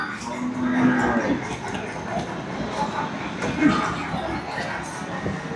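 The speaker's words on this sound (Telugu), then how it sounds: "ఇక్కడ చూసుకో చాలా హెవీ సైజ్ గేదెలు ఉన్నాయి." Heavy-sized buffaloes low at the busy Erragadda buffalo market, one moo clearly heard among crowd chatter and general livestock bustle, with people talking throughout.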